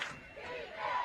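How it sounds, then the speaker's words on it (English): Spectators at a high school football game roar and cheer together, a loud, sustained crowd noise that swells toward the end of the moment, heard from the stands at a distance. "Crowd making some noise."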